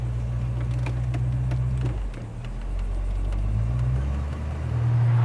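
A 1967 Oldsmobile 442 convertible driving with the top down, its engine a steady low rumble close by, with a brief shift in pitch partway through before settling back.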